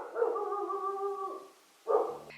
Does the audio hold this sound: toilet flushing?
no